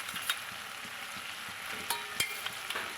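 Koi fish curry with freshly added green chillies, for a cauliflower dish, sizzles steadily in a hot pan, with a few sharp scraping stirs of the spatula over the constant frying hiss.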